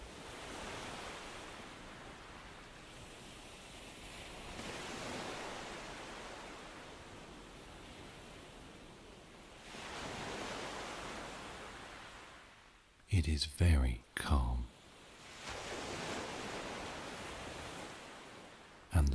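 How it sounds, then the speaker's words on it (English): Gentle ocean waves wash softly onto a sandy shore in slow, repeating swells, a calm surf hush rising and falling every few seconds, with a quiet voice speaking briefly partway through. "the waves break like small sighs against the sand"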